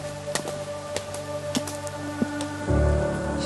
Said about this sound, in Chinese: 雨水从天空落下，也开始变得急迫